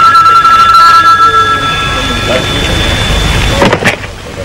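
A telephone bell rings in an office scene from an Iranian film, a steady close ringing tone that fades out. A brief rustle and clatter follow, with no words spoken.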